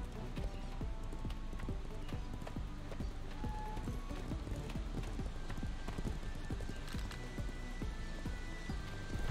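Hooves of a horse galloping in a video game set in Celador beat in a rapid, steady clip-clop rhythm, close and continuous, with faint game tones layered in the background.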